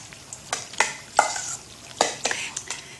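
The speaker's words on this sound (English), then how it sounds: "Now give that a quick stir around." Balinese curry with coconut being stirred in a pan: a few distinct scraping strokes of a utensil against the pan over a soft sizzle, close and fairly loud, with no talking.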